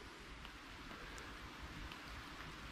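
Rain falling outdoors by an abandoned barn during a long hike in Switzerland: a faint, even hiss of rainfall holds steady throughout, with a few soft drops standing out and no voices.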